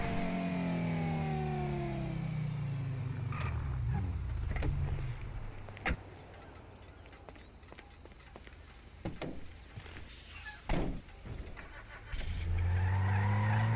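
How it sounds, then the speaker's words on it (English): A muscle car in GTA 5 Online drives with engine revs rising and falling, tyre skids and sharp impact clicks in between, close and fairly loud throughout. "notice that I am in a muscle car"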